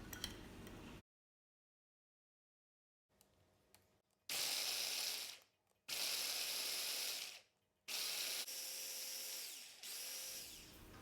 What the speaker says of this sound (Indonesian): kelapanya akan saya haluskan dengan chopper CH200 dari Mitoshiba